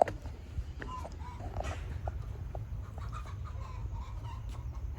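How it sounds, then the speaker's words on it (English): Chickens cluck in short, scattered calls over a steady low rumble, fairly faint and outdoors, with no clear talk. "Chicken."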